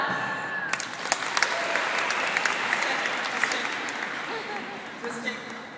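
An audience at a US Social Forum plenary session in Detroit claps, a steady wash of many hands lasting several seconds, with a few sharper nearby claps and a crowd murmur underneath.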